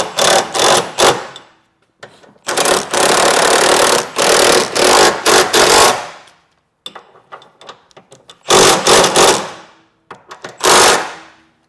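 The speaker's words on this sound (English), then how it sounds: "We just want to tighten this until it's nice and snug." Bursts of an impact or ratchet wrench tightening a bolt with a spacer on a Honda Element rear subframe, loud and close, in several rapid rattling runs separated by short pauses.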